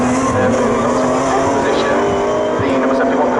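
Sports prototype race cars lap the Snetterton circuit, including a Radical PR6, with a loud, continuous, droning engine roar throughout and tire squeal, under steady commentary speech.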